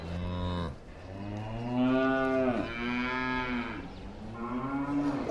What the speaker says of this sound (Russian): Это корова, да?